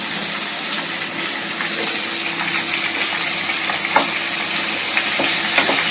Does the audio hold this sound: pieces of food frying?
yes